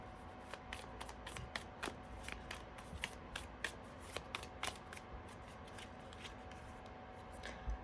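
Deck of affirmation cards shuffled by hand, a run of quick crisp riffles and flicks at close range in a quiet room, irregular bursts with no voices.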